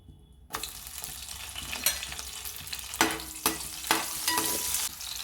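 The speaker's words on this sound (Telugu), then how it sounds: "ఆయిల్ వేడెక్కింది కదండి ఇప్పుడు పచ్చిమిర్చి వేసుకోవాలి" Green chilies hitting hot oil in a pan, a sudden bright sizzle that starts after a brief quiet moment and continues steadily, with sharper spits and stirring bursts recurring through the clip.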